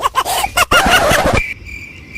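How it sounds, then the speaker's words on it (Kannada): Chickens clucking in short bursts over a dense, busy burst of sound, ending with a steady faint high-pitched insect-like drone. "ಛೀ, ಕೋಳಿ ಎಲ್ಲ ಹತ್ಬಿಡ್ತ ಅನ್ಸುತ್ತೆ."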